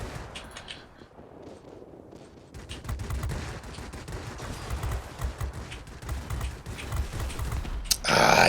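Aircraft machine guns firing in the World of Warplanes video game, a dense, continuous rattle of rapid shots over engine roar that swells louder toward the end.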